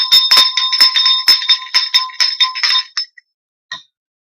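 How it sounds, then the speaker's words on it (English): Small bell rung repeatedly in rapid shaking strokes, bright and close, then a few fading single dings and one last isolated ring. "I'm going to ring the bell"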